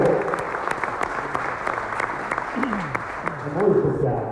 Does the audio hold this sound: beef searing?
no